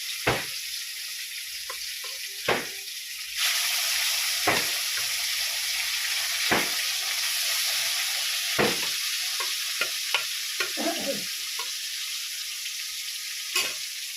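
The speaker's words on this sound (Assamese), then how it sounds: "তিনি পিচকৈ ভাজিম" Fish pieces fry in a pan, three at a time, giving a steady, bright sizzle broken by sharp scraping and stirring knocks as the pieces are turned.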